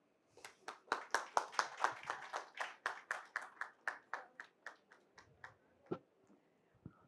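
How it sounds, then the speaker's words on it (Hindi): Audience applause for actress Sonarika Bhadoria at the Hindutva film song launch: a burst of clapping from a crowd, strong at first then thinning into scattered, slowing claps that trail off. "मुझे लगता है इससे ज़्यादा वाली तालियां बनती थी"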